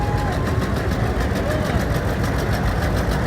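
A tractor engine idles close by during a homecoming parade in Ione, a steady rumbling chug that runs continuously, with people chatting nearby over it.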